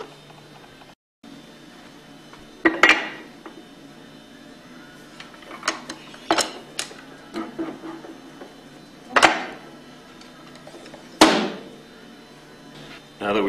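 A Hypro roller pump is pressed apart in a workshop, with several sharp metallic clanks and knocks spaced a few seconds apart over a low background hum, close by and moderately loud.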